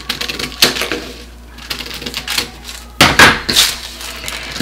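Scissors snip through a paper blouse pattern, making a series of crisp, close cuts with short pauses between them, loud and dry with no talking.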